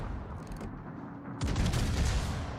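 Warship main battery guns firing in World of Warships: a heavy, booming salvo erupts about halfway through over a low rumbling backdrop, with crackling echoes trailing off.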